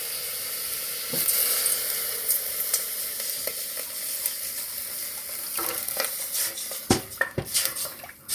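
Ingredients for tteokguk, meat with chili, are stirred in a pot, with scraping and clinking utensil strikes over a steady low sizzle of frying that grows busier toward the end, with no voices.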